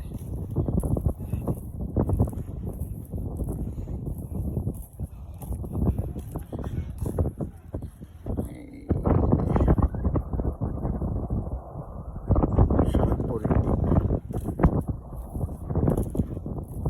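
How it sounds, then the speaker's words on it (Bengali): Steady coastal wind blowing into the microphone at Shah Porir Dwip, Cox's Bazar, buffeting in gusts throughout, with a low rumbling roar that swells louder partway through. "অসাধারণ বাতাস এখানে"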